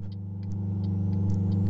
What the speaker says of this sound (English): It's not to say the engine noise is bad or anything like that with the CAT engine.